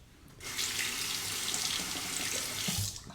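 Tap water runs steadily from a faucet while a Merkur 34C safety razor is rinsed at a sink, a broad continuous splash starting after a brief quiet moment and holding close and loud until the end.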